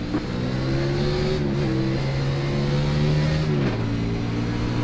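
Race car engines drone loud and steady in iRacing at Bristol in the NIS Monster Energy Series as the green flag drops, their pitch shifting as the cars accelerate together, with no talk over them.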